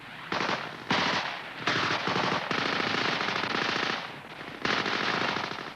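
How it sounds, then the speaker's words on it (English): Machine guns hammer out suppressive fire in long sustained bursts separated by brief pauses, loud and dense, during a British Army platoon fighting patrol assault on enemy trenches, with no voices. "the cover group puts down suppressive fire with everything they've got"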